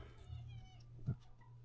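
A house cat gives a couple of short, soft meows indoors, faint and close, over a low steady hum.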